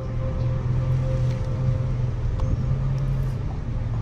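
Steady low engine hum from a vehicle in a horror video game, droning continuously and fairly close with a constant pitch and no voices over it.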